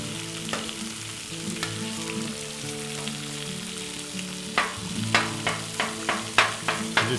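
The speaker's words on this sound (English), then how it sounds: "I'm gonna cook my meat all the way through. Get it good and brown." Ground meat for breakfast tacos crackles and sizzles in a pan over low-to-medium heat, with a quiet hum underneath and a series of sharp scraping stirs near the end.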